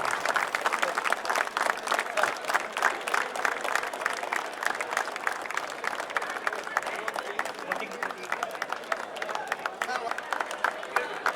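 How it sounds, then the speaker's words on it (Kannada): A crowd at an employees' sports meet applauds loudly, and the dense, continuous clapping lasts throughout with faint voices mixed in. "ಜೋರಾದ ಚಪ್ಪಾಳೆ"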